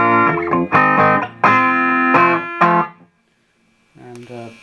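A Fender Mustang II amp set to its 65 Twin Reverb model rings out with clean, chiming guitar chords in short strummed bursts, then a pause before a softer chord returns, close and clear.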